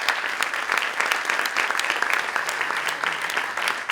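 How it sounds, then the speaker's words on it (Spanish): Sustained applause from an audience of students, teachers and school staff at a cultural event, a steady dense patter of clapping lasting throughout with no talking. "El saludo y el aplauso."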